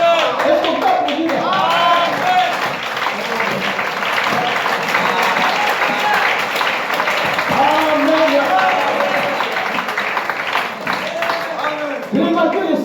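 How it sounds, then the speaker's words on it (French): A church congregation breaks into sustained, loud applause that fills the room throughout, with voices mixed into the clapping. "Est-ce qu'on peut applaudir?"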